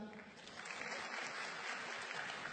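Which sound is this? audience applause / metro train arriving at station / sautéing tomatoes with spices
audience applause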